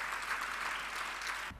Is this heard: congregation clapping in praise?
yes